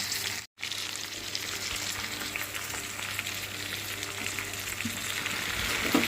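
Ivy gourds fry in a pan for a chutney, giving a steady, close crackling sizzle that runs for about six seconds after a very brief gap near the start.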